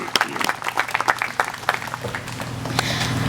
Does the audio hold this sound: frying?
no